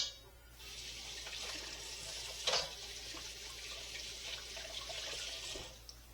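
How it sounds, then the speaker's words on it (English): Running tap water pours steadily into a sink while hands are washed in a home kitchen during baking, a soft continuous hiss with one brief splash partway through. "I just washed them again because I didn't want the oil on my hands"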